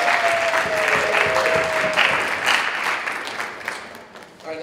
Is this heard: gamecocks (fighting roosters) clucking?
no